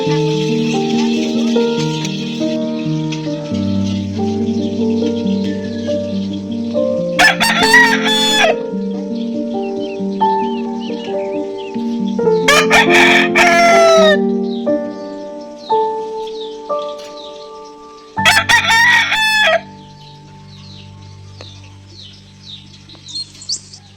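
A rooster crows loudly and close three separate times, each long harsh call standing out over a background of layered chirping birds and other fowl clucking.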